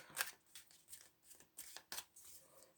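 Quiet, close-up card sounds: a quick riffle followed by several soft flicks and slaps as cards are laid down one after another.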